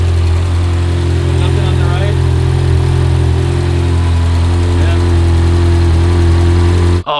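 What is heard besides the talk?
Ferrari engine with a broken exhaust header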